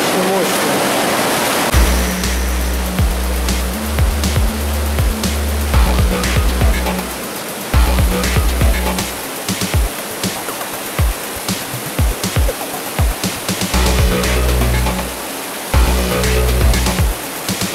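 Water gushes steadily from an inflow pipe into an underground river beneath Moscow, a loud continuous roar close by, with low rumbling tones and intermittent clatter echoing in the tunnel.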